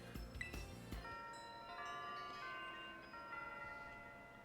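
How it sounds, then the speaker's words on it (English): A faint chiming bell from the video game Pokemon Violet rings out in a few sustained, ringing tones that slowly decay, quiet and alone against a soft background. "Alright, that was the worst bell I've ever heard."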